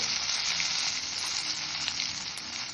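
Whole cumin seeds frying in hot oil in a wok, a dense, even sizzle held steady throughout at close range, with no speech.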